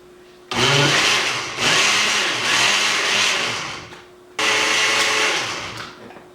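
An electric blender pulses a caramel chocoflan mixture with cream cheese, two long loud whirring bursts separated by a brief pause, close and steady with a slight rise and fall in motor pitch.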